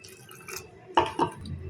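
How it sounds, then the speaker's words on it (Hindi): A little water is poured into pakora batter: two quick, close splashing dribbles after a quiet start, faint and short. "थोड़ा थोड़ा पानी डालना है, उसको मिक्स करना है,"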